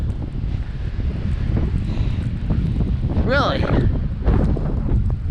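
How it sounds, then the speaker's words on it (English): Strong blizzard wind roars steadily into the microphone outdoors in Regina, Saskatchewan, a loud constant rumble throughout, with someone speaking briefly over it. "It's still blowing like a crazy thing."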